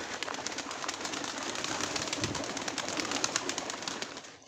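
Pigeons in a loft coo and rustle softly while feeding, a faint, continuous murmur with light scratchy flutters throughout and no one speaking.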